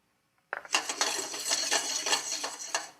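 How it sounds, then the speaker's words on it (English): Flaxseed poured into a dry, hot pan with no fat, giving a sudden rattling patter of small seeds on metal that starts abruptly and runs on as a dense, scattered clatter. "we're going to toast this flax seed in a pan that's completely dry"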